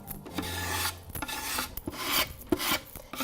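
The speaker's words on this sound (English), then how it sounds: "I'm just scraping top of my crate to remove all the Vaseline" A paint scraper rasps paint and Vaseline off the top of a wooden crate in a series of close, uneven scraping strokes with short pauses between them; no one speaks.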